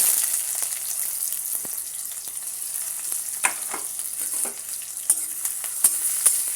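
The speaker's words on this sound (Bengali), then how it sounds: "ভালো করে লাল লাল করে পেঁয়াজটাকে আমি প্রথমে ভেজে নেব" Onions sizzle and crackle in hot oil in a kadai, seasoned with cumin seeds, for a mutton curry. A steady, close frying hiss runs throughout, with sharp clinks and scrapes of stirring.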